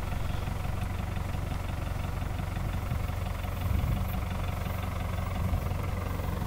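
A tractor engine runs steadily at idle in a field, a low continuous rumble with a faint knocking pulse and no voices.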